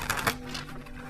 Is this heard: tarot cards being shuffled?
yes